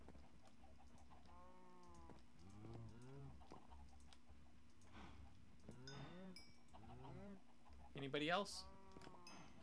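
Cows moo repeatedly in the video game Minecraft, several drawn-out lowing calls at moderate distance, with a brief spoken question and a sharp higher animal cry near the end.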